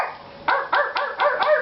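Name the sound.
dog barking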